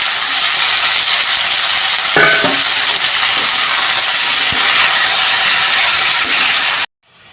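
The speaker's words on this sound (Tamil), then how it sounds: "காலிஃப்ளவர் வதங்கிட்டு இருக்குங்க" Cauliflower sautéing in a pan, a steady broadband sizzle and hiss throughout with a few brief stirring scrapes, close and loud, no talk, cutting off abruptly near the end.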